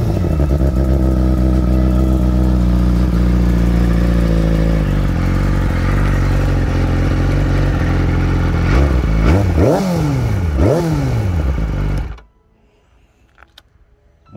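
A 2006 Yamaha R6 motorcycle with 54,800 km idles loudly and steadily, then revs sharply a few times in quick bursts before cutting off into near silence.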